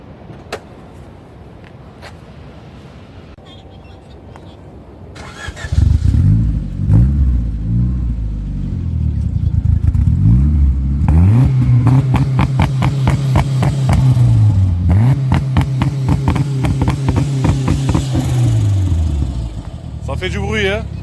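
A modified, non-stock Honda Civic turbo making about 300 horsepower roars to life close by, its engine revving hard again and again in loud rising sweeps, with people talking nearby.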